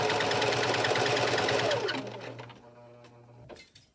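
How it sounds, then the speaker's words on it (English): A sewing machine stitches around the top edge of a doll sun dress in a close, steady whir for about two seconds, then slows and stops, leaving a few faint clicks and handling sounds. "So again, just sewing around the whole"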